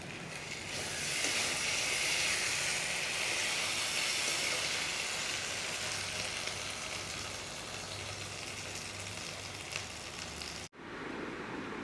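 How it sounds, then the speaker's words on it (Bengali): Spices frying in a pan give a continuous close hiss and sizzle that holds steady for about ten seconds, then cuts off abruptly before a quieter tail. "এই যে মশলা ভাজছি"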